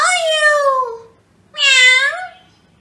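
A voice imitates a cat, giving two drawn-out meows close up and loud, separated by a short silence.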